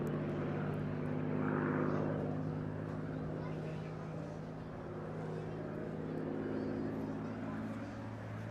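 A North American P-51 Mustang, built at Inglewood, California in 1944, flies at the Eastbourne International Airshow, its propeller engine a steady droning hum rising and falling slightly, with a commentator talking over it.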